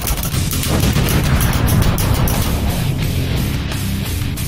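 Rapid, dense gunfire from shooting monsters in the NES game Creepers Quest, loud continuous chiptune-style blasts running unbroken throughout with no talk.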